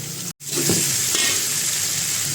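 Peas tipped into a pan of hot vegetables being cooked for chole pulao, a steady loud sizzle that starts right after a brief gap and continues evenly without speech.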